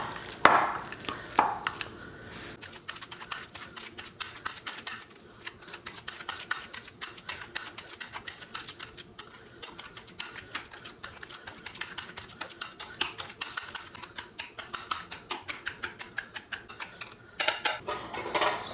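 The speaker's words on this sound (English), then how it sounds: "Before you squash them or before you mash them." Very ripe bananas being mashed for banana bread, a fork striking the bowl in a fast, steady run of close, sharp taps with brief pauses.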